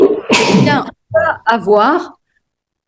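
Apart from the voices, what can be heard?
sneeze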